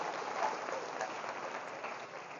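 Applause from a school honor roll assembly audience celebrating students, a steady, moderately distant patter of many hands with slight crowd murmur beneath, holding even throughout.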